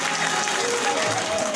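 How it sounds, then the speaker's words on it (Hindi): Loud, dense applause from an audience at a devotional anniversary and birthday gathering, clapping for the singer Shivani ji; the clapping is steady and continuous for the whole stretch, with a faint crowd murmur underneath. "एक बार जोरदार ताली बजाती है शिवानी जी की"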